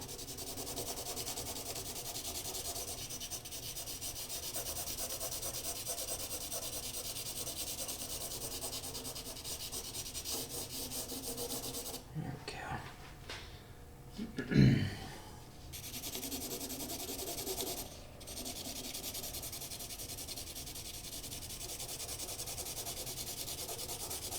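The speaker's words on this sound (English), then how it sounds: "you can hear that the pencil kind of scrape off on that paper" A graphite pencil scrapes steadily across Canson Mi-Teintes toned paper while shading, a continuous soft rasping close up with one brief sharper stroke in the middle and no voices.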